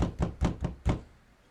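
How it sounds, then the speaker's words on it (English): Five quick knocks on a door in an uneven rhythm, close and solid, followed by quiet. "there's a knock at the door."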